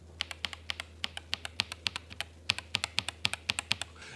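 Tactile mechanical keyboard switches clicking as keys are typed in a steady, fairly quick rhythm of sharp, close taps, with no talking.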